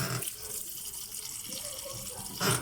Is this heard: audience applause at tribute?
no